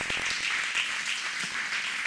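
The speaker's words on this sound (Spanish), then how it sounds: "dele una ofrenda de palmas al Señor en esta hora" Church congregation applauding as an offering to the Lord, a steady wash of many hands clapping together at moderate loudness with no speech over it.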